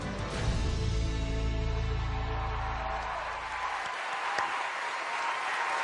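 A crowd cheering and applauding at a weight-loss competition show, dense loud clapping with whoops that fades out after about four seconds, leaving quieter room noise.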